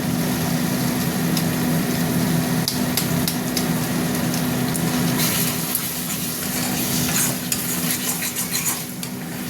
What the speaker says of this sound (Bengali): মশলাটা আবার কষবো, কষে তারপরে একদম কষা হবে মশলাটা।